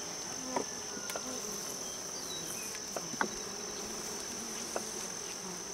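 Honeybees buzz steadily around an open, fairly strong nuc hive drawing new comb, with a continuous high insect hum and a few faint clicks and knocks from handling the frames.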